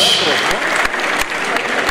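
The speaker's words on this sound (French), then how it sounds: "Applaudissez le jury s'il vous plaît." Clapping from a crowd at the Miss Mali France 2015 pageant, dense and continuous, heard close with a French-speaking host talking over it.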